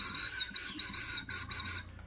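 A homemade whistle call for whistling ducks sounds several short, thin, high whistles in quick bursts, fairly soft and close.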